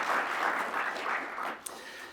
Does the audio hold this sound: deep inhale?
no